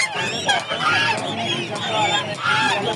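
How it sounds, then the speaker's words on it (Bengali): Geese and chickens crowd a busy poultry market, with loud overlapping honks and clucks close by and a faint murmur of people in the background. "এখানেও দেখতে পাচ্ছেন এই যে খুব সুন্দর সুন্দর রাজহাঁসের কালেকশন"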